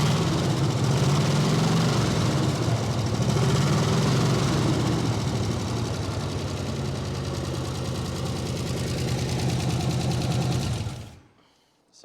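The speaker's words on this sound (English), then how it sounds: "Hey, Norm, you want to give it some gas?" A 1969 Chevrolet El Camino engine runs steadily and loudly up close for about eleven seconds, a dense rumbling idle, then cuts off abruptly near the end.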